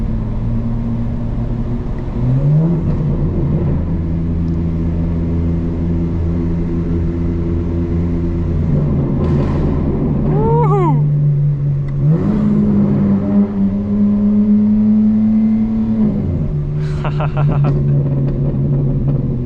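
A 2025 BMW M4 Competition xDrive engine drones steadily from inside the car while driving, a loud low hum whose pitch steps up and down through gear changes and brief revs, with a few faint clicks and noises over it.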